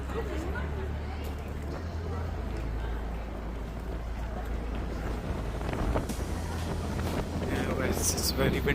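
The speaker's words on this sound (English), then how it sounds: "It's very windy here right now." Strong wind at San Francisco's Palace of Fine Arts buffets the microphone in a constant low rumble, with faint voices underneath.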